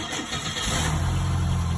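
A car engine cranks and catches after its trouble codes are cleared with a scan tool, a short starter whir followed by a steady, close idle.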